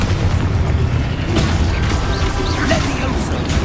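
A spell-blast explosion from Exposo in Hogwarts Legacy, played on PS5: a booming burst with crashing debris, loud and full, layered under a dense game soundtrack and effects, with voices speaking.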